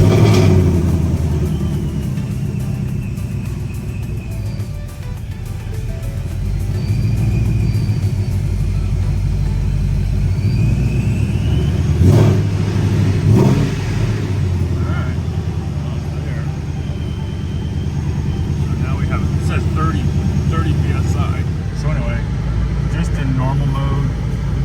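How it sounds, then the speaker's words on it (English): Ford Mustang S550 engine turning over and settling into a deep, steady rumbling idle, close and loud, with someone talking over it. "Okay, let's start the car up."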